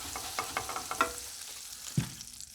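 Bread toasting in butter in a pan gives a faint, close sizzle broken by a quick series of light scraping clicks, then a single soft thump near the end.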